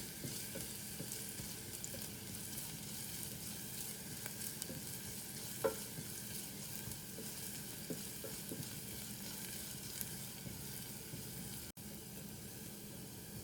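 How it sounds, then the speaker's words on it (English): Onions fry gently in oil in a pan, a soft continuous sizzle with faint stirring clicks and a single sharper tap midway. "I'll fry the onions until they turn translucent."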